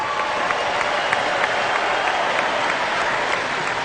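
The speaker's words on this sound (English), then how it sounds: "Let's give a big round of applause for the Edmonton Symphony Orchestra." An arena crowd at an NHL hockey game applauds the Edmonton Symphony Orchestra, a steady, loud, even wash of clapping from a large audience with no break.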